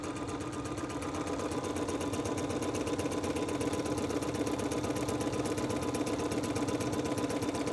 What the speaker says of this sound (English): you're just going to sew a seam all the way down to the last pin